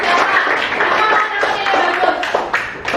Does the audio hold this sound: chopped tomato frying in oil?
no